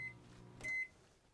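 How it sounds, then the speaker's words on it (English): A microwave oven on a boat runs with a faint, low hum, and a short electronic beep sounds midway through. "the beauty is you only run the microwave for a couple minutes at a time"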